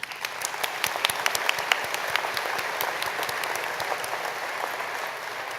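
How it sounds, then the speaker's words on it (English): A large audience at a spring commencement ceremony claps steadily throughout, a dense, even wash of applause with a few sharper individual claps standing out near the start. "Let's give them all another round of applause."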